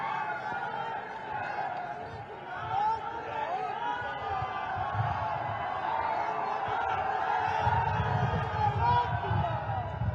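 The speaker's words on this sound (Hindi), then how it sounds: "जोरदार तालियों से स्वागत करें माननीय मुख्यमंत्री बिहार श्री सम्राट चौधरी जी का" A large outdoor political rally crowd in Bhagalpur, Bihar cheers and claps to welcome the Bihar chief minister, a dense steady roar of voices and whoops swelling louder toward the end.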